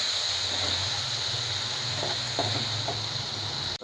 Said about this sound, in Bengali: একটু কষাবার জন্য নাড়তে হবে।